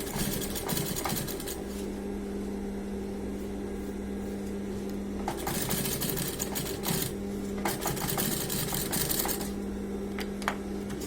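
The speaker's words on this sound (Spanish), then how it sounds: "Y ahí voy llevando el pespunte derechito arriba de la cuerina" A sewing machine stitching a seam along faux leather trousers, running in bursts with a steady motor hum and rapid needle clatter, pausing briefly between runs, close and clear.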